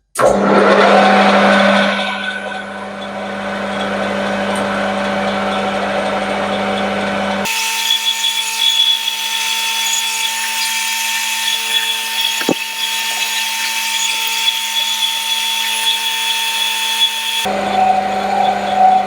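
Metal lathe cutting on its finest feed with chatter, a steady high whine with sharp ringing tonal lines and a buzzing rasp, shifting abruptly in tone partway through, close and fairly loud with no talking.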